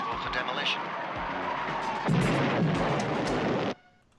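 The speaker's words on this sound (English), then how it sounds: "Yeah, that's a stock explosion." A stock explosion sound effect from a TV show, a building demolition scene, roars as a loud, broad blast that sustains for a couple of seconds before cutting off abruptly, preceded by busy dramatic audio.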